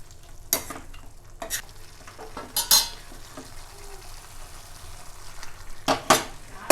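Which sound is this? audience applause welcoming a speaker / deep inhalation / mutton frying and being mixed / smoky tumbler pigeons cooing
mutton frying and being mixed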